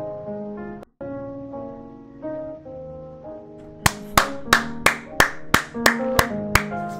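About ten sharp hand claps in a steady rhythm, starting partway through, over a sustained tonal background that begins alone.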